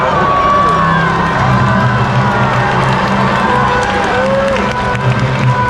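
Fairground show crowd at Canada's biggest fair cheering and clapping for two 13-week-old puppies, a loud, dense, continuous wall of cheers and applause with shouting voices over a steady hum.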